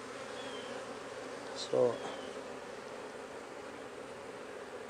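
A steady low honeybee hum fills the background, bees buzzing nearby during hive splitting and queen marking, with a brief louder burst partway through.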